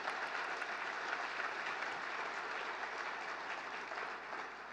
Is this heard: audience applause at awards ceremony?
yes